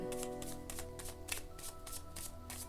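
Tarot cards for a love reading are shuffled by hand close up in a steady run of crisp riffling bursts, repeating about every quarter second with no talk over them.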